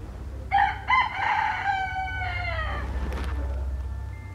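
A rooster crows once nearby, a long drawn-out call over a steady low engine-like hum, followed by faint background noise.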